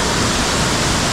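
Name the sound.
Santa Rita Falls waterfall and flowing water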